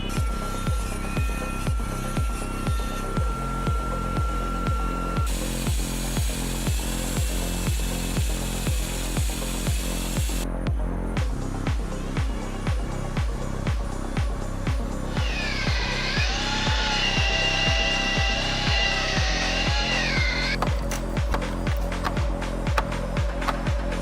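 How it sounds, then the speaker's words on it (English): CNC milling machine cutting wood for a wall clock, giving a fast, regular rhythmic chatter of the cutter throughout with a steady motor drone and shifting high whine as the tool moves. "With its powerful motor and precise cutting tools, the machine performs delicate milling operations according to the program design"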